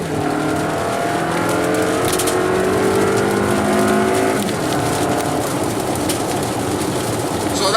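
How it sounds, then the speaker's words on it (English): A 2019 Toyota RAV4 Limited in sport mode pulls hard up to 60 mph, its engine note rising steadily through the gears, loud and close from inside the cabin, with a shift-like drop midway and steady road roar beneath. "throw it in sport mode and do a quick little pull"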